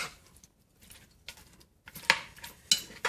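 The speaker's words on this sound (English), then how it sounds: "And we are going to mix all these ingredients properly." A spoon clinks against a bowl while mixing a Hyderabadi mutton dum biryani marinade with lemon juice: sparse, light metallic taps at first, then sharper, louder scrapes and knocks, close up with no talking.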